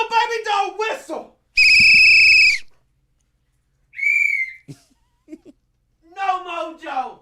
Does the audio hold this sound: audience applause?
no